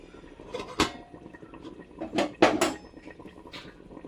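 Chicken being stirred in a cooking pot, with a spoon clinking and scraping against the pot in several sharp, close knocks among quieter shuffling.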